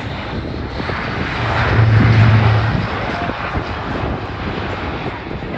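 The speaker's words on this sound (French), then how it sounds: "l'Atlas reprend de l'altitude et quitte rapidement l'axe de piste, vous permettant d'apprécier la forte pente de montée à la vitesse minimale" Airbus A400M Atlas four-engine turboprop at the Orléans-Bricy airshow re-accelerating and climbing away, a loud, continuous propeller drone that swells in the middle, then holds steady.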